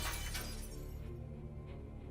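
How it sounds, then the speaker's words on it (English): A glass window shatters from a thrown brick, a bright crash at the start that trails off into a fading tinkle of falling shards. "I was happy to hear the satisfying sound of shattering glass"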